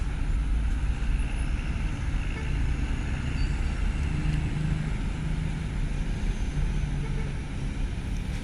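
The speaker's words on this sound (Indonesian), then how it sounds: "Ada bus Sinar Jaya." A Sinar Jaya bus at the Bakauheni port entrance at night, its steady engine rumble close and continuous amid surrounding traffic drone, with no pauses.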